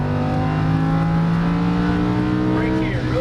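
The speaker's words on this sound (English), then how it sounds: "Unwind the wheel and squeeze down the throttle" A Lamborghini Huracan LP610-4 engine pulls hard on a racetrack, its steady, loud drone climbing in pitch as the throttle is squeezed. A voice talks over it near the end.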